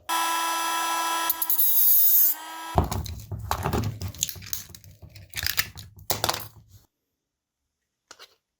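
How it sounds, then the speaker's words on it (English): While a mechanical Swiss cooling fan is being assembled, a part is cut. A steady high-pitched tool whine is followed by several seconds of close, rattling metallic crunching and clattering before it falls quiet. "I'm going to cut a bit."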